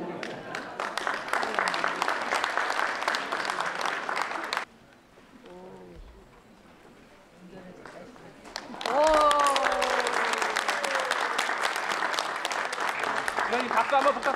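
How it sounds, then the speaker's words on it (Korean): Audience applause at a Gyeonggi Province ceremony announcing disability welfare and mobility plans, loud dense clapping for about four seconds, a quieter gap with a few voices, then a second long burst of clapping mixed with voices. "선생님 박수 한번 부탁드립니다."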